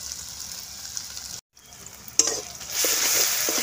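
Spices such as turmeric and Kashmiri red chilli powder fry with garlic paste in a hot pan, a steady close sizzle with stirring scrapes, briefly cut, then growing louder and hissier.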